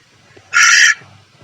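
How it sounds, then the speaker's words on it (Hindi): A macaw parrot lets out a single loud, harsh, raspy squawk lasting under half a second, close and prominent against near silence. "इस तोते को मैकाऊ या मैको के नाम से जाना जाता है।"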